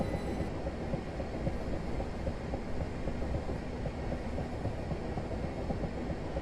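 A Class 375 electric multiple unit runs along the Chatham Main Line in Train Simulator 2016, giving a steady, loud rumble of wheels and traction that continues unbroken throughout with no talking.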